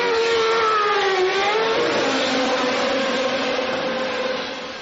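Michael Schumacher's 1996 Ferrari Formula 1 car accelerating out of the pit lane, a high, rising engine whine that climbs in pitch and fades as it pulls away.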